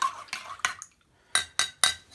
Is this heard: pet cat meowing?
no